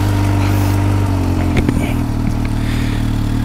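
Supercharged Kawasaki H2 motorcycle, already warm, running loud and close with a steady low engine drone and faint mechanical clatter and scraping.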